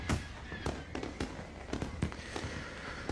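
Fireworks bursting in the visual novel Katawa Shoujo, a string of sharp crackling pops and bangs spaced irregularly over a low steady background, fairly faint overall.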